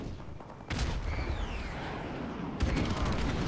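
Airstrike explosions in the video game Modern Warfare Remastered rumble as a dense, continuous barrage, with a sharper blast near the start and another near the end over a steady roar.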